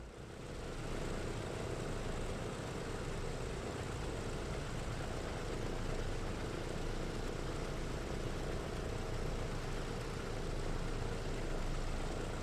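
Propeller engines of a PMDG DC-6 airliner idle steadily in Microsoft Flight Simulator, a loud continuous droning hum with a low rumble that holds level throughout with no talk.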